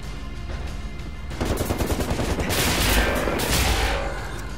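Cannon and heavy gunfire in the video game Wolfenstein: The New Order, a dense burst of rapid booming shots starting after a quieter first second and continuing loudly to the end, with no talk.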